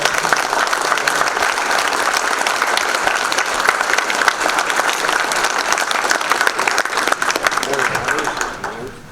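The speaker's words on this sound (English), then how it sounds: "Let's give a round of applause." An audience at an awards gathering for an association's member of the year gives a sustained round of applause, thick and even for several seconds before tapering off at the end.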